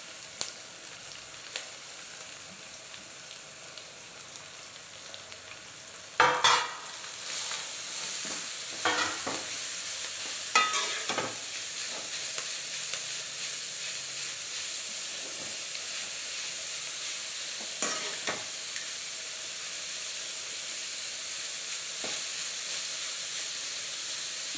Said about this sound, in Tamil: கேரட்டு நல்லா கிண்டி விட்டுட்டு அப்படியே வேகட்டும்.